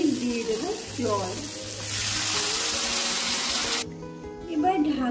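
Water is poured into a sizzling fish curry masala of gurjali fish, producing a loud rushing hiss that swells and holds for a few seconds, then cuts off sharply, with a voice speaking before and after.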